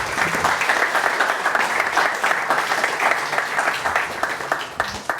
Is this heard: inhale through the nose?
no